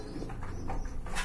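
Pigeons coo softly in a pet pigeon sale setting, a few low rolling calls over a busy, noisy background.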